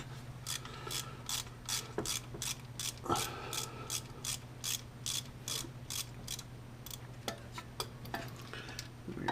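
Ratchet wrench clicking in quick regular bursts while removing a 1/2-inch bolt on a 1987 Jeep Comanche, close and crisp over a steady low hum, with short pauses between strokes.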